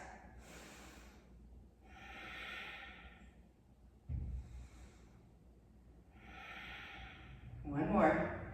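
Slow, deep yoga breaths in warrior two pose: long airy inhales and exhales repeat about three times, close to the listener, with a short snort-like exhale partway through.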